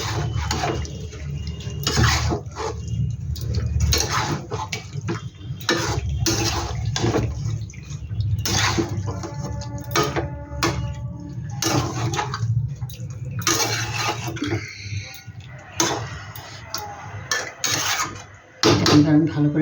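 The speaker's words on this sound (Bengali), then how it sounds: "দইটা দিয়ে আমি ভালো করে নেড়ে দেবো" Chicken being stirred with yogurt in a pot, with repeated scraping and clinking of a spoon against metal, wet squelching bursts and pauses, close and fairly loud.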